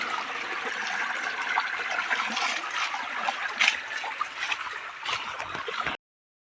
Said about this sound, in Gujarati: પાણી ચાલુ થઈ ગયું તમને બતાવું ક્યાં પાણી નીકળે